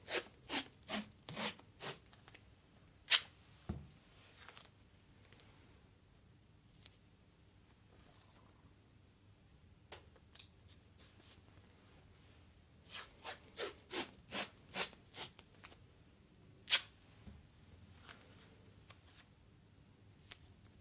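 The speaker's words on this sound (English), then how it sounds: "As you apply each strip, raise the shoulder to give it more stability." Strips of athletic tape are torn and pressed onto a shoulder in quick bursts of sharp ripping and rubbing, with a quiet gap between the two clusters.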